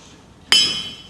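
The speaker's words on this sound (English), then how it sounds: "you'll see me striking this here on the horn with the rounding edge of the hammer like this" A blacksmith strikes hot steel on the horn of an anvil with the rounded edge of a hammer while forging a fireplace rake, a single loud, close metallic strike that rings on and slowly fades.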